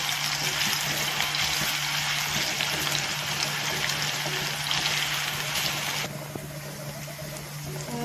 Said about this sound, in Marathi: ह्याच्यासाठी मी लाकडाचा चमचाच यूज करणार आहे आणि मस्त असा आपण बटाटा फ्राय करून घेऊया